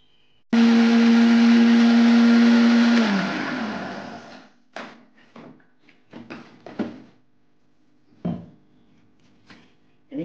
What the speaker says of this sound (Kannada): ಈಗ ಇದನ್ನು ಸಹ ಗ್ರೈಂಡ್ ಮಾಡಿ ತರ್ತೇನೆ.